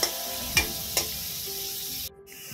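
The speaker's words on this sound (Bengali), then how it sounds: "এই দেখো ফ্রেঞ্চ ফ্রাইস বসিয়ে দিয়েছি, 2-3 বারে করবো, তাহলে প্রত্যেকটা খুব সুন্দর ক্রিস্পি ফ্রাই হবে।" French fries crisping in hot oil give a steady close sizzle, with a few sharp stirring clanks near the start and a brief dropout near the end.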